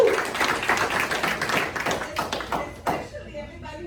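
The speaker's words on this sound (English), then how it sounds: "Give yourselves a round of applause." An audience at a live business talk applauding, with a steady wash of many clapping hands and some scattered whoops that fades toward the end as a voice begins speaking over it.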